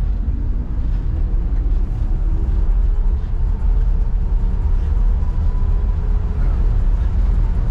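A 1966 Chevrolet C10 Stepside pickup truck rolls along in second gear, its engine giving a steady low rumble with road and cabin noise throughout and no breaks.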